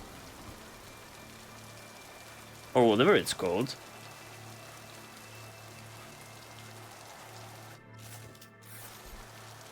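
Steady torrential rain in the video game Mass Effect 2 hisses evenly throughout, with someone briefly talking over it.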